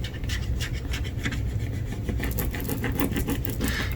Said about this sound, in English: squeegee my design to make sure that my transfer tape and my vinyl adhere together